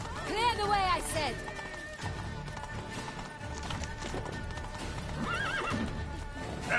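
Horse hooves clip-clop at a run in The Witcher 3, with a sharp whinny near the start and another neigh later, set against game music and a voice talking.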